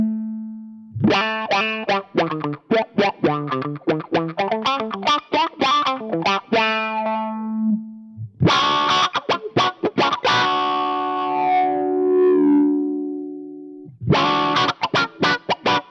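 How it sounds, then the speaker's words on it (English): Electric guitar through a Quad Cortex envelope filter, quick picked notes and chords swelling with a wah-like sweep, a rapid run, then sustained ringing chords and a final burst of strums, close and loud with no talking. "Envelope filter, perfect."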